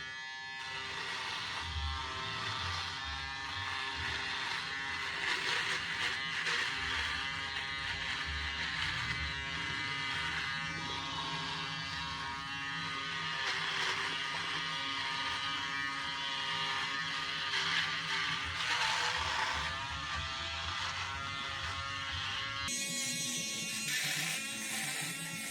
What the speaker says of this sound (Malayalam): ഇതോടൊന്ന് ഷേവ് ചെയ്ത് നോക്കാം